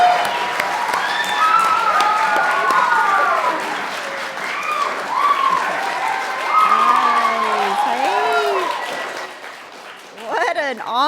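Audience applause welcoming the head of San Diego's city libraries at a mayor's science education announcement: sustained, fairly loud clapping from a crowd of moderate size, with cheers and whoops over it, thinning toward the end.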